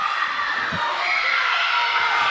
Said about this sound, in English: Listen to this crowd. Listen to that crowd.